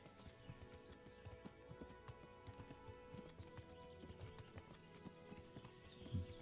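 A horse's hooves clip-clop at a steady trot in the video game Kingdom Come: Deliverance, a close, regular patter over a humming background of game music, ending with a louder thud.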